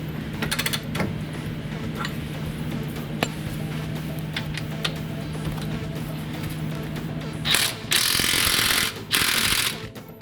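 A big socket ratchet works loose a 1 1/8-inch nut during a lift kit install on a 2007 Ford Ranger, giving quick metallic clicks at first, then louder grinding ratcheting bursts near the end over a steady background hum.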